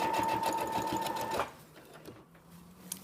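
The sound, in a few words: sewing machine stitching a sequined border on a dog dress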